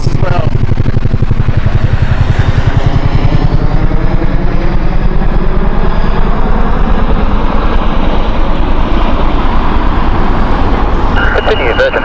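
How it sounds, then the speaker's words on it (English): A Boeing Chinook helicopter passes low overhead at Heathrow, a loud, steady rotor thump and engine roar filling the whole stretch with no letup. "Now we've got a Boeing Chinook over Heathrow,"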